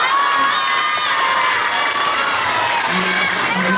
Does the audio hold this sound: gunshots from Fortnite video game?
no